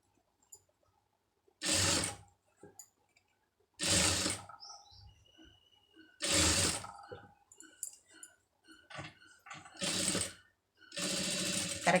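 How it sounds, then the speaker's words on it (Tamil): Sewing machine stitching fabric in several short bursts of rapid whirring, each lasting about half a second, separated by quiet pauses with faint handling noises. "இதில் ஒட்டி வந்து தையல் வந்து போட்டுருங்க."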